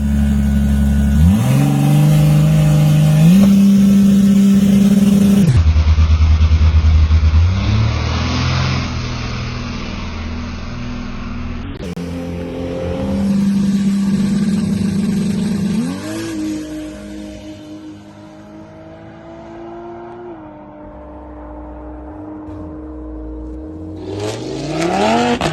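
A 2JZ-swapped Mazda FD RX7 launches down a dragstrip, its engine screaming up through repeated gear changes with sharp shifts, loud and close, then fading as it pulls away before a later roar.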